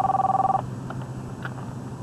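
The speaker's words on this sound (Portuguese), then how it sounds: "Telefone de Christine Cromer" A telephone rings with a warbling electronic tone for about half a second and then stops, leaving a quiet room with faint background noise.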